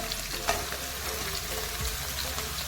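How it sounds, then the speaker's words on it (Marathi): Finely chopped onion and tomato fry in a pan for a vegetable dalcha, giving a soft, steady, continuous sizzle with a few light stirring clicks. "टोमॅटोसुद्धा छान मऊ होईपर्यंत आपण परतून घेऊयात"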